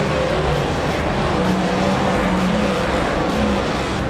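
Stock cars race around a concrete-walled speedway track at Rotorua during a night meeting, with a dense, continuous roar of several engines, revving surges and passing cars blending together at close to mid distance, and no voices heard.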